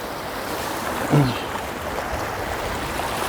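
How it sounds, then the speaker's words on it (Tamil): Sea waves wash against granite stones along the shore at Thaiyiddy, a steady broadband rush with one brief, slightly louder splash near the middle. "கருங்கல்ல பார்த்தீங்களா இதை வந்து தடுக்குதுங்க தண்ணி அடிக்கிறத பாருங்கள்"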